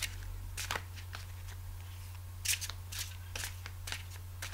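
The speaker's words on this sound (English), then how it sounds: "We need a good shuffle" Soft, rapid riffling and slapping of tarot cards being shuffled, in bursts over a steady low hum.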